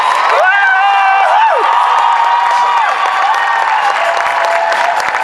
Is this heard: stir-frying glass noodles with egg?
no